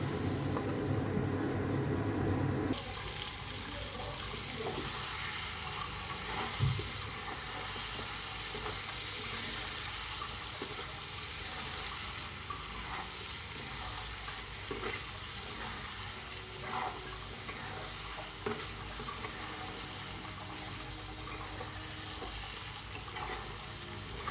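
Chicken with onion, chilli, ginger and garlic fries quietly in plenty of oil, a soft continuous sizzle with occasional stirring scrapes and a brief clatter near the start, low in level, with no talking.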